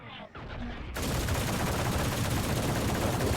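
Sustained, dense automatic fire from an Odin machine gun spraying through a wall in Valorant, loud and continuous after a brief quieter moment, with a commentator talking beneath it.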